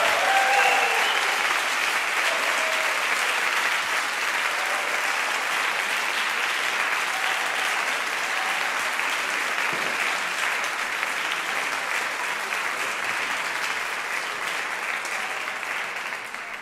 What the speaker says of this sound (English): give all of tonight's choreographers, performers, our live stream, front of house, and wonderful technical team here in the theatre a big round of applause